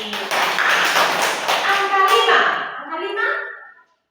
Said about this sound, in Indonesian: pintar sekali, tepuk tangan dulu.